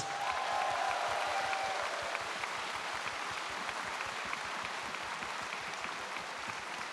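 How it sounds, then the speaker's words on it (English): Crowd applause at a convention opening ceremony after a cake is presented, steady and sustained clapping from a large audience, with a faint whistle-like tone early on. "Oh, a big applause!"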